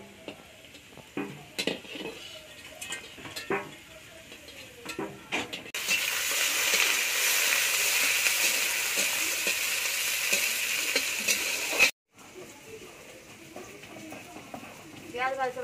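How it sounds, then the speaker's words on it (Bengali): Chicken meat frying in a pan in a home kitchen, a loud continuous sizzle that swells in the middle and cuts off abruptly, with someone talking before and after and occasional scraping of a utensil against the pan. "মাংসটা ভাজা হয়ে গেছে"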